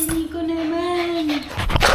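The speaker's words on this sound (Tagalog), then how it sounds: "Ayun na yung aso." A dog whimpers in one long, drawn-out whine near a house at the end of a walk home, followed by brief rustling and faint movement.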